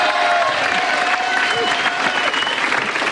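An audience bursts into loud, dense applause at a French variety show honoring a guest named Roger, the clapping sustained and close, with a voice faintly speaking over it.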